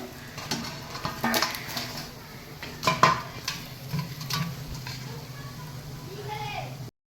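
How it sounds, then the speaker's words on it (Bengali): Fried bamboo-leaf river fish are lifted out of hot oil: faint sizzling under scraping and clinking of a metal utensil against the pan, several sharp knocks, with a person talking over it. "এই আমার বাঁশপাতা মাছগুলো হয়ে গেছে, এবার তেল থেকে তুলবো।"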